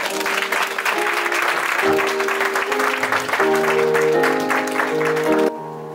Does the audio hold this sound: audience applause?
yes